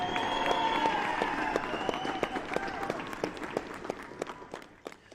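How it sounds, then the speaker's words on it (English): Applause for youth soccer players after the MLS NEXT Cup U15 Academy Final, a dense round of clapping from a crowd that gradually thins into scattered individual claps, with some voices mixed in. "Let's give a round of applause to our players"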